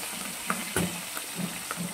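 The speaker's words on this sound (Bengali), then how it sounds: "এইগুলোকে একইভাবে ভেজে নিচ্ছি।" Katla fish tail pieces sizzle in hot oil in a pan, a steady close frying hiss with a few light pops and stirring clicks, and no talking.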